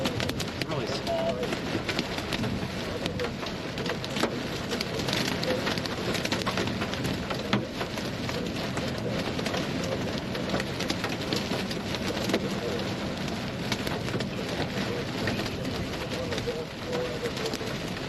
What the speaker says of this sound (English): This is like dime-sized hail. It's really, really small. It just sounds a lot louder than it sounds bigger because of the aluminum car body.